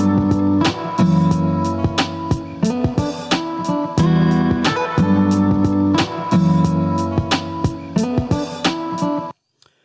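A reverb-treated drum track plays steadily, its kicks and snare hits repeating in a regular groove over sustained tonal backing, loud and close, with decaying tails before cutting off abruptly at the end.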